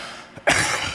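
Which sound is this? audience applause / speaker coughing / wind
speaker coughing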